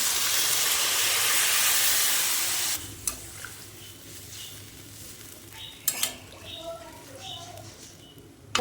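Water poured into a hot pan of duck eggs and cauliflower sets off a loud, steady sizzle and hiss for about three seconds, then fades to soft bubbling with scattered clinks of a utensil against the pan.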